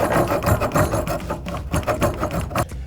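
A hand saw cuts through a small wooden block for a pinewood derby car, heard as steady, close rasping strokes in a repeating back-and-forth rhythm with no talking.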